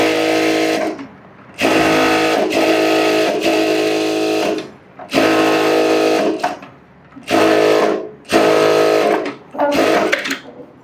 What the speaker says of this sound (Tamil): இந்த லைனிங்கில் தையல் போடுறோம்